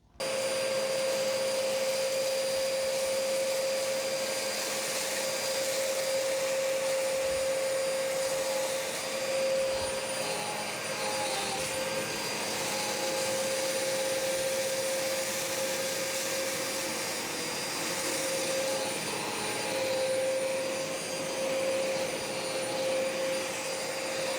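A Hoover Wind Tunnel XL Pet vacuum cleaner runs steadily on a hardwood floor, a loud continuous motor whine and airflow roar with a constant high tone, sustained throughout without speech.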